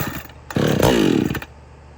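A Husqvarna 450 Rancher chainsaw, unused for a while, gets a pull-start: a brief sputtering catch, then a loud close engine burst of about a second that dies away.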